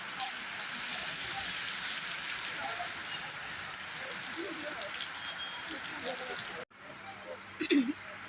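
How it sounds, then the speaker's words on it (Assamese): Rain falls on a street in Fancy Bazar market as a steady, close hiss of drops on surfaces. The sound cuts off abruptly near the end, leaving quieter patter and a few brief noises. "এয়া আমি বৰষুণত ফাঁচি গ'লোঁ।"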